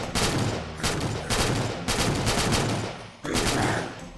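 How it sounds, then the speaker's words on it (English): A Halo-style assault rifle in a modded Unturned video game fires in sustained loud automatic bursts with short pauses between them, with no talk. "that's definitely AR fucking shooting all over the place"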